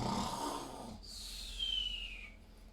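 A voice imitates snoring trolls with a low rasping inhale followed by a long whistling exhale, soft and close in a quiet room.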